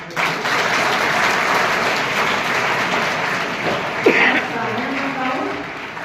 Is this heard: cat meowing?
no